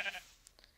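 A short bleat from a sheep in Minecraft, followed by a couple of faint blips, with a quiet background and no talk.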